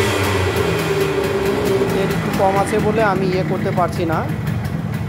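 A long-parked Yamaha RX-100 motorcycle, running low on fuel, idles steadily with a low, even engine rumble throughout, while someone talks over it.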